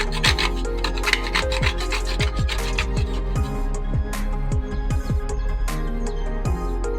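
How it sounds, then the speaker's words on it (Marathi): Dry ginger grated by hand for a jaggery and cardamom sweet, giving steady, close rasping strokes in a quick rhythm that repeats throughout with no talking. "सुंठ आपल्याला किसून घ्यायचे."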